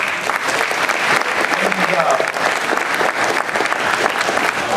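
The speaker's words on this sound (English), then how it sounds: "So give yourselves a round of applause for that." Sustained applause from a large audience, a dense even patter of clapping at steady loudness throughout.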